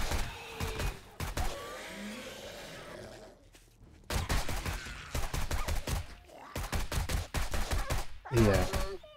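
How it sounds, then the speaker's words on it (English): Rapid gunfire bursts from weapons shooting enemies during a horde night in the video game 7 Days To Die, Darkness Falls mod. Loud, repeated volleys separated by short pauses, with a groaning sound near the end. "I'm just gonna shoot these bastards"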